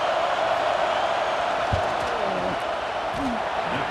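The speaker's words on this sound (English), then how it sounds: "This crowd trying to do its part to get inside the kicker's head." Steady stadium crowd roar from a simulated college football game, Penn State at Ohio State in EA College Football 26, building as a field goal is attempted on fourth down; dense broadband noise continues throughout while a commentator talks over it.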